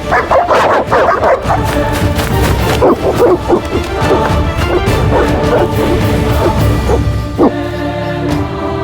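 Dogs bark and yip aggressively in rapid bursts in The Witcher video game, close and loud, with crashing and snarling noises mixed in as they attack.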